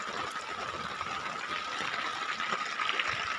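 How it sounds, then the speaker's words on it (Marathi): Heavy unseasonal rain pours at night over farmland in Dhamangaon Railway taluka, a dense, steady hiss of falling water that holds at an even level for the whole stretch with no voices. "सारखं पाणी चालू आहे असं आता अर्धा घंटा होत आहे"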